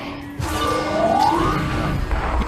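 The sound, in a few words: disc hitting the glass in a VR video game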